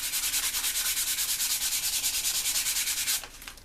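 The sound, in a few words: sandpaper rubbing glue off a table tennis blade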